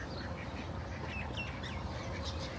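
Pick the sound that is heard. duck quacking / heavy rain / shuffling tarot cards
duck quacking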